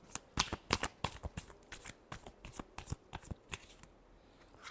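A deck of tarot cards is shuffled up close, a long run of rapid, sharp card snaps and flutters in an uneven rhythm that thins out toward the end.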